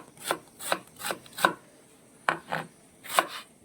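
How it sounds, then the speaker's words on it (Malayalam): A knife finely chopping an onion for chicken fried rice, close and crisp, with seven sharp board strikes in uneven bursts and short pauses between them. "സവോളയും കൂടെ നമ്മൾ ചെറുതായിട്ട് ചോപ്പ് ചെയ്തെടുക്കുവാണ്"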